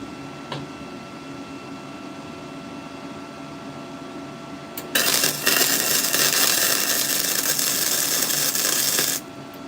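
A tack weld is laid along the bottom side of a metal workpiece. The arc erupts into a harsh, loud, crackling hiss that lasts about four seconds against a low background hum, then cuts off sharply.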